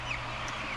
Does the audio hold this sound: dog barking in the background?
no